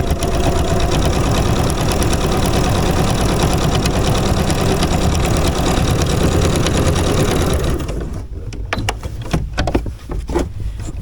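A home sewing machine runs steadily, stitching a quilted sleeve of a sweatshirt, with a continuous mechanical whir for about eight seconds. It then stops, leaving a few soft clicks and handling noises.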